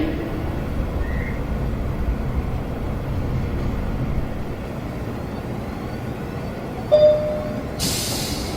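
A Manhattan-bound R express subway train rumbles steadily and loudly throughout, with a brief brake squeal near the end and a hiss of air at the close.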